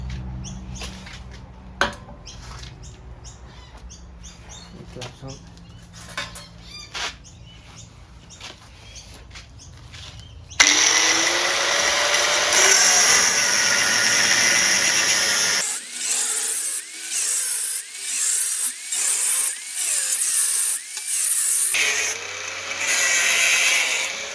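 A Triumph Bobber exhaust silencer pipe is cut, with soft handling and rubbing noises at first, then a loud, close, harsh power-tool grind that runs in long stretches with short breaks.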